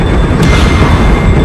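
Gunfire in The Walking Dead video game, a dense, loud roar of sustained shooting with one sharper crack early on, filling the whole moment without voices.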